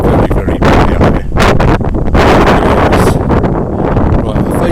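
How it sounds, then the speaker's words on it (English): Strong gusting wind roars and buffets the microphone on an exposed hilltop at the ruins of Berkhamsted Castle, loud and continuous throughout with no let-up. "It's getting very, very windy up here."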